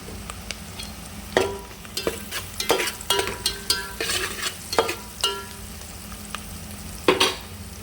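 Cumin, curry leaves and potato pieces sizzle in hot oil in a pan, with irregular spoon scrapes and clinks over a low frying hiss, no voices.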